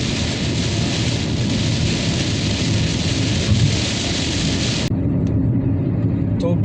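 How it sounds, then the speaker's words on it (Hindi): Steady, heavy rain pours down on a car travelling the Hyderabad to Mumbai highway in a dense hiss, continuous throughout, with a low rumble underneath; the high wash drops away abruptly near the end. "जिस बारिश का इंतज़ार था वो शुरू हो गई है।"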